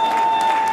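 Crowd applause at a Madaraka Day gathering with a Kenyan ambassador, a loud, steady burst of clapping cheering the organizing committee, with a constant tone running underneath.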